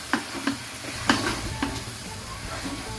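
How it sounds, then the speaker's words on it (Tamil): Duck meat is worked together with turmeric and chili spice in a pot, giving soft wet squelching and scraping strokes in a loose repeating rhythm, close and moderately loud, over a faint background hiss. "காரம் நல்லா ஊறுற அளவுக்கு நல்லா பரட்டி விடுங்க"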